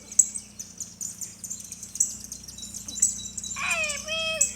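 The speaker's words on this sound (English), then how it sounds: "Where's the bird?" Outdoor birds chirping, a baby bird with its parents, short high tweets repeating near and far, then a louder, rising series of calls toward the end over a low steady background hum.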